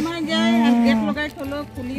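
A cow moos in a low, sustained call at a tea estate near a crèche, the moo holding steady before breaking into shorter uneven tones, fairly close and clear.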